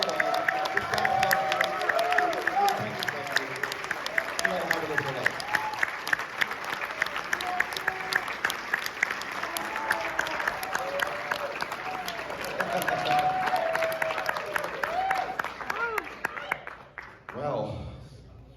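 A crowd at a furry convention's closing ceremony claps and cheers at length, steady applause with whoops that rolls on before cutting off, while a voice speaks over the top.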